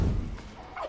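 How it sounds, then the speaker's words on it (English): A wild turkey in Far Cry 5 gives a short gobble, a brief burbling call standing alone over a low thump at the start. "Turkey."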